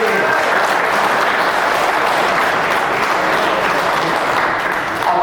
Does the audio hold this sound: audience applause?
yes